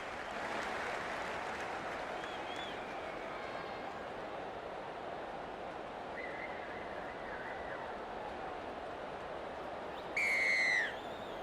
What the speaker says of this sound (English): The crowd goes up with a kickoff.